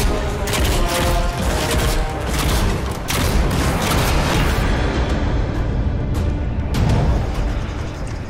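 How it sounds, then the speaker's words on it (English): Viscous cannon bombs in the Nosgoth video game detonate after sticking, a dense, continuous barrage of booming, crackling explosions, loud and close, with overlapping blasts throughout. "viscous cannon bombs don't explode on impact, instead detonating a few moments after its adhesive properties take hold"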